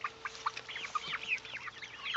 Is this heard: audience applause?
no